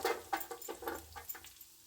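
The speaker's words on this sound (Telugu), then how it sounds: "ఆవాలు రెండు స్పూన్లు జీలకర్ర రెండు స్పూన్లు శనగపప్పు మినప్పప్పు ఇప్పుడు ఇవి వేగుతున్నాయి" Mustard seeds, cumin, chana dal and urad dal fry in a pan of hot oil, giving a quick series of close, crackling pops and spits that fade toward the end.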